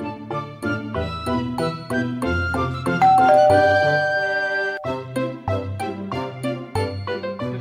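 A house calling bell rings as a bright, melodic electronic ding-dong chime, a rapid sequence of clear tinkling notes repeating loudly and alone throughout.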